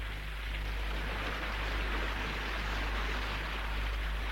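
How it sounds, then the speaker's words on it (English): Rain falling on a ship at sea, a loud, steady hiss of dense drops with a low rumble underneath, continuous and unbroken throughout. "Here comes the rain."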